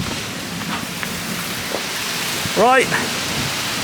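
Heavy downpour hisses steadily in a torrential storm at a medieval fortress in Smederevo, Serbia, with a brief voice breaking in partway through.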